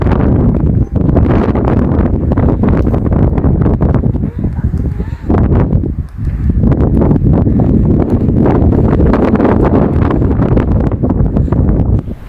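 Strong wind on Mount Merbabu buffets the microphone in loud, continuous gusts, roaring and blustering with brief lulls on the mountain trail.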